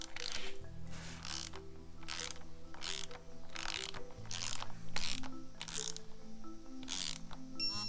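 A torque wrench tightens the cam cover bolts on a 2008 Subaru Impreza cylinder head at 5 foot-pounds, giving rapid close ratcheting clicks in repeated bursts, with no talking.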